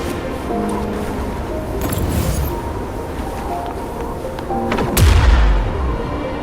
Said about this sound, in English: Perhaps we can create an opening in this disk with an explosion.